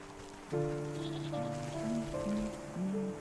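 A goat bleats in the Wytchwood video game, drawn-out wavering tones over soft background game ambience, with no voices.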